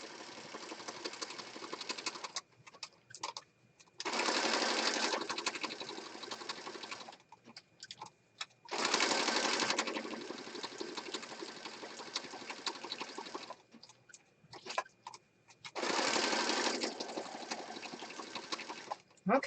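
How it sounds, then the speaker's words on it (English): A sewing machine stitches junk journal covers in bursts of fast, buzzing whirring, stopping and starting several times with quiet pauses between. "All right, let's go to the sewing machine."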